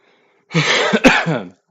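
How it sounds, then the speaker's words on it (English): A single harsh cough burst, close and fairly loud, with a rough throaty quality, in an otherwise quiet setting. "Apologies for coughing."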